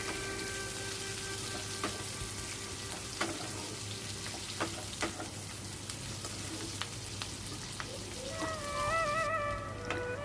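Chopped onions frying in hot oil with bay leaf, whole cumin and whole garam masala for a Bengali egg curry, a soft, steady sizzle with scattered crackles and pops, close by and fairly quiet.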